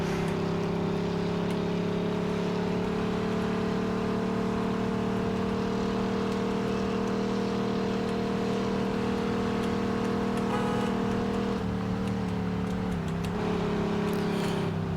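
A limousine in Mafia 2 races at full speed, its engine holding a steady loud drone with a brief waver near the end.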